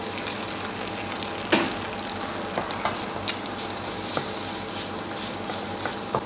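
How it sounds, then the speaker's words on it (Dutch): Quick, steady scraping and tapping of a utensil stirring eggs in a pan, with a faint sizzle underneath and a few sharper clicks. "Gewoon snel roeren, dat het nog helemaal fijn wordt."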